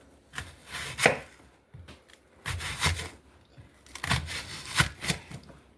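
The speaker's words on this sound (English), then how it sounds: "So we can just cut it in half." A knife cuts through a large onion in repeated short, crisp chops against a board, with several strikes in uneven bursts close up and loud, and no voices.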